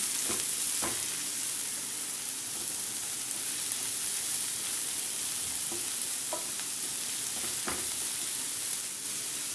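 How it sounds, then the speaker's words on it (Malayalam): Garlic, ginger, green chili and chopped onion sautéing in a hot pan: a continuous close sizzle with a few sharp stirring clicks and scrapes of the spatula, no voices. "വെളുത്തുള്ളി ഇഞ്ചി പച്ചമുളക് ഇതിനൊന്ന് വഴറ്റിയെടുക്കണം"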